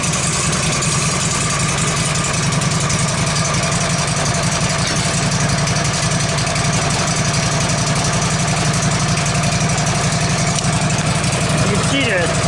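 The engine of a Woodmizer LT15 sawmill runs at a steady idle after an oil change, a loud, constant, close drone that carries through the whole stretch.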